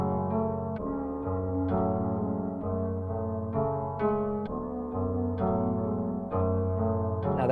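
A flute and piano melody slowed by a halftime effect at 130 BPM plays steadily and smoothly, with sustained tones and soft note changes repeating in a looping phrase, no voices over it.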